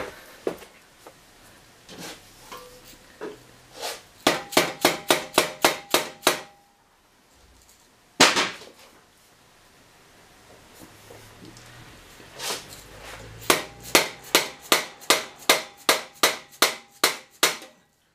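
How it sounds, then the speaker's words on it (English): A soft hammer taps a Triumph Speedmaster exhaust pipe in quick rhythmic bursts, sharp close knocks coming in runs of ten or more, with short quiet gaps between the runs. "I just use a soft hammer just to tap it in"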